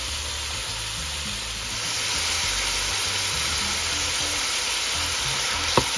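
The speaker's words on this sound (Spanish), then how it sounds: "sofreír el jamoncito unos minutitos" Ham sizzles in a frying pan with a continuous, even crackle up close, getting slightly louder partway through, and a single sharp click near the end.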